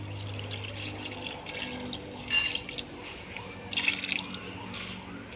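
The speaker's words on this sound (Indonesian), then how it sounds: "kita masukkan airnya sedikit demi sedikit dulu" Water is poured little by little into pempek dough of egg, garlic and salt, making two short splashy bursts over a faint background hum.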